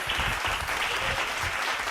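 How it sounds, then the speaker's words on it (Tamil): Dense, steady hand clapping from a congregation at a Tamil-language Sunday church sermon fills the whole moment without a break. "கைத்தட்டுங்க"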